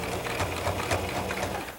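A sewing machine stitches pieced quilt blocks, running in a steady, continuous mechanical whir with a fast rhythmic needle clatter, close and alone.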